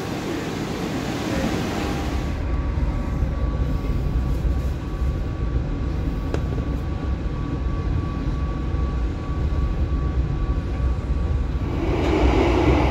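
Steady low rumble of the Jayabaya passenger train departing Surabaya Gubeng station, a broad continuous roar with a faint tonal hum, fairly loud and unbroken.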